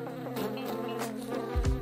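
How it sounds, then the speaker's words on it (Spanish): Bees beat their wings fast in a continuous close buzzing drone with a steady pitch that swells and dips slightly as they move around. "Cuando están en el aire, sus alas producen vibraciones que el oído humano reconoce como zumbidos."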